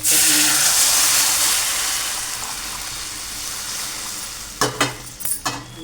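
Water poured into onion, tomato and chilli frying in a pan, a loud rushing sizzle that gradually fades, followed by several sharp clattering knocks near the end.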